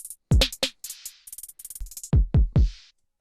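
A sliced and rearranged drum loop beat, with punchy low kicks, crisp snare-like hits and quick bursts of hi-hat ticks in a choppy, stuttering pattern, close and clear with no talking.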